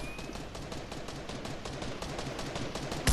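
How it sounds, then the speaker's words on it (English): Rapid repeated gunshots in Fortnite, an even stream of sharp cracks running throughout at a moderate distance with no talking. "Somebody is shooting from me right here."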